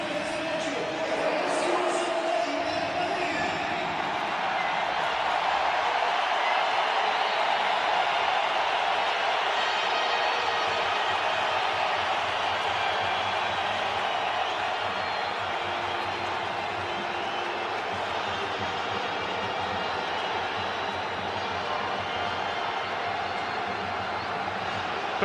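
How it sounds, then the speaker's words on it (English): Stadium crowd of over 65,000 at Allegiant Stadium, Las Vegas, for a Barcelona versus Real Madrid friendly, a steady loud roar that holds throughout under a commentator's voice. "A raucous roar to welcome the two teams."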